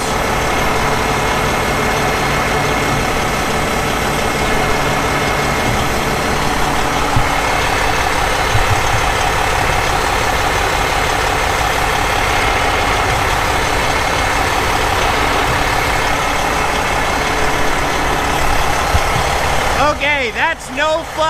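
A dump truck's engine idles loudly and steadily while driving its hydraulic pump, a dense continuous rumble and whine up close, with the tone shifting near the end.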